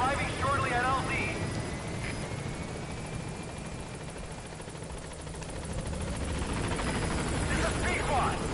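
A helicopter arriving at a landing zone in Metal Gear Solid V: The Phantom Pain, its rotor and engine roaring steadily and loudly throughout, with radio voices over the noise.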